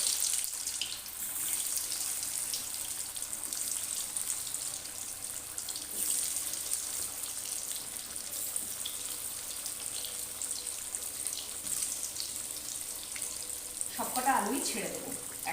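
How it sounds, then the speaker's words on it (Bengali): Turmeric-coated potatoes slid gently into hot oil for a mutton and potato curry, giving a continuous bright, hissing sizzle at close range under a speaking voice, with a louder crackling burst near the end. "এবারে আমি এই হলুদ মাখানো আলুগুলো জাস্ট এভাবে দিয়ে দিই খুব আস্তে ধীরে দিয়ে দিতে হবে"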